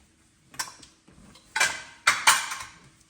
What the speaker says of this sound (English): we just dump everything else in and stir it together